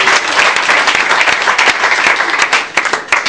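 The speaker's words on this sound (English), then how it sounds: "Clap for Master Jesus Christ!" A church congregation claps together in a dense, energetic burst of applause, loud and close, with many hands overlapping in a continuous uneven patter.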